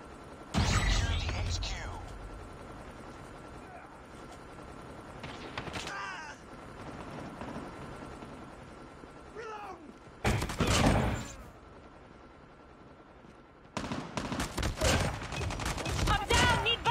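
Shotgun fire in a battle royale video game: heavy booming blasts at intervals over a constant game background, with a voice talking through parts of the fighting.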